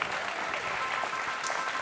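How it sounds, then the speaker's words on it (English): An audience at a tech talk with an illusionist gives a brief, steady round of applause, a dense wash of many hands clapping at moderate loudness with no break. "Give Greg a huge round of applause."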